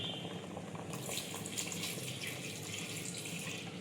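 Dissolved Amul milk poured into a pan with jaggery, a steady close trickle of liquid running for several seconds at moderate level, brightening partway through.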